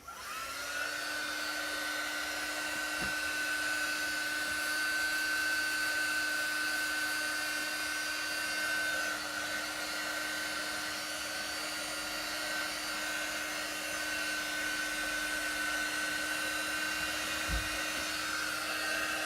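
A hair dryer blows steadily and close at a constant whining pitch while drying chalk paste, running without pause and with no talk over it.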